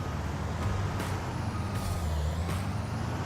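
Air brakes hiss in sharp bursts from a truck in a farming video game on an American river valley map, repeating about every three-quarters of a second over a steady low engine rumble.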